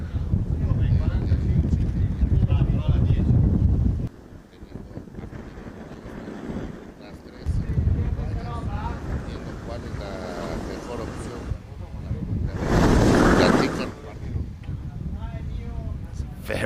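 Gusty wind of 13 mph with gusts up to 18 mph buffets the microphone in loud rumbling bursts, easing and returning, while a person talks over it at a FootGolf championship in Acapulco.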